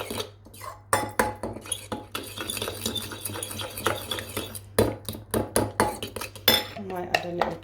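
Chopped chilies, tomatoes and onions are stirred in a bowl for a desi omelette, a steady close clatter of a utensil scraping and clinking against the bowl, with a low hum underneath.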